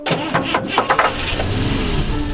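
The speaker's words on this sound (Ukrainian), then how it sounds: "коли на старті Молнія Маквін рве, а док видає от такий звук заведення" Doc Hudson, the race car from Pixar's Cars, cranks and starts his engine with a short series of sputtering bursts, then settles into a steady rumbling idle.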